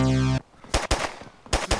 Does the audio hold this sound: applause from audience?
no